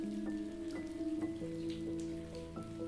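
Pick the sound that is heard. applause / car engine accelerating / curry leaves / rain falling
rain falling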